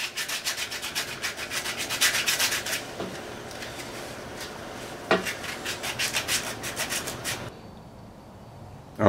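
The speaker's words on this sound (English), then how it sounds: "having to do hand sanding on the legs" Wooden table legs being sanded by hand during a restoration: quick rhythmic rasping strokes, close and steady, pausing briefly midway, then stopping near the end as the room falls quiet.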